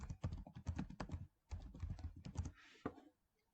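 Keys tapped on a computer keyboard in quick, uneven bursts with a brief pause in the middle, close and fairly quiet, no talking.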